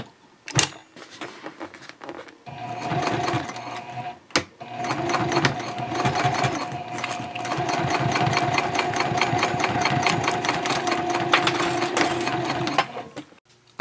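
A sewing machine topstitching a messenger bag runs close up in a steady, fast whirring stitch, starting and stopping briefly with a couple of sharp clicks before a long continuous run.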